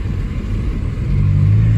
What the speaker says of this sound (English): it does have an exhaust leak